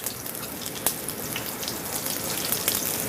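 Anchovies fry in a hot pan for puttanesca, giving a dense, continuous close crackle and hiss with a few brighter pops.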